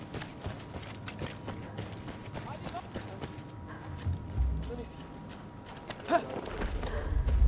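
Horse hooves clip-clop in Battlefield 1, a World War I video game, as a steady series of beats under game noise and someone talking, then grow louder near the end as the horse comes close.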